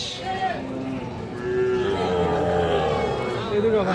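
Cattle and calves, including Sahiwal bull calves, moo repeatedly at a rural livestock market in Dinajpur, long drawn-out calls rising over a busy background with people talking.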